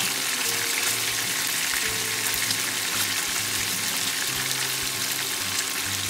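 Tulingan (bullet tuna) steaks frying in hot oil: a dense, steady crackling sizzle close by, running continuously with no voices.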